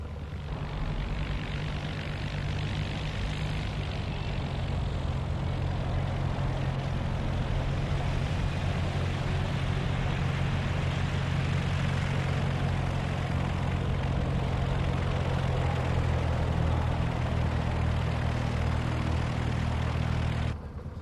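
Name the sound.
light propeller airplane engine preparing for takeoff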